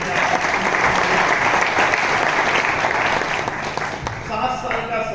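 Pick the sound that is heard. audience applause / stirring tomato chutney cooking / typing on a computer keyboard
audience applause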